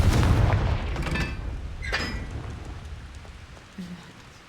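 Confringo fire spell explosions in the Hogwarts Legacy video game, a loud burst of booming blasts at the start fading into a crackling, rain-like decay, with a small thud near the end.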